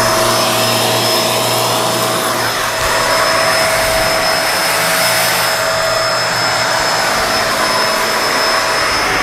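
A Kenmore Lift-Up upright vacuum runs with its brush roll on, giving a loud, steady motor whine and airflow rush that stays constant throughout.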